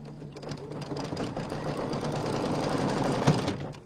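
A sewing machine stitches along the other side of a quilted fabric bench-buddy project, running as a steady, continuous mechanical whir close to the microphone, with no talking over it.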